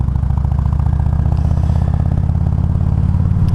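A Harley-Davidson Road King rumbles along the road with a loud, steady, close V-twin chug, its even pulsing beat continuous and alone.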